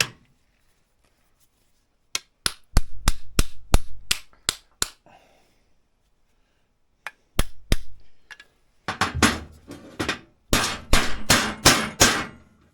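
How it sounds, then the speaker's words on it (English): Sharp metallic hammer strikes on a spring retainer in a vintage Polaris XLT 600 triple snowmobile skid, quick bursts of clanging blows separated by pauses, close and loud. "Need a little love with the hammer"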